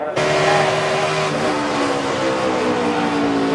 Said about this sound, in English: Jeff Gordon and Clint Boyer racing for 5th position.